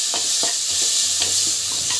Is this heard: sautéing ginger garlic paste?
yes